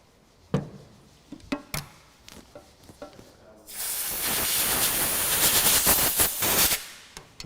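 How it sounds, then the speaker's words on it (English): Spray cleaner blasting Fiat Dino carburetor progression jets, a sustained loud hissing spray lasting about three seconds, preceded by several sharp clicks and taps of handling the small parts up close. "give those a little blast with some cleaner."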